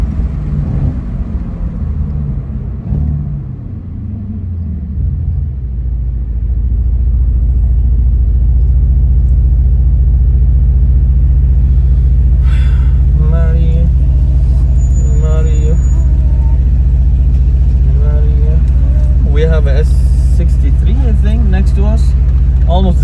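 Mercedes C63 S Cabriolet engine rumbling loudly and steadily up close, a deep sustained drone that builds after a few seconds and holds, with a person talking over it.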